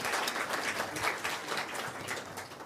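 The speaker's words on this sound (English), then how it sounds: "let's have a round of applause for Communal" A room of attendees at an International Women's Day 2024 tech community event applauds a sponsor, a steady, dense clapping that holds evenly and tapers slightly at the end.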